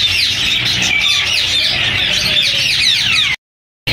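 Many caged birds calling at a Sunday bird market in Bahawalpur, with dense overlapping chirps, tweets and squawks filling the air continuously before a sudden cut near the end.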